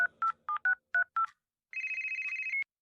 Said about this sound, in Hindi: मैंने फौरन से मुकंदी को फोन लगाया।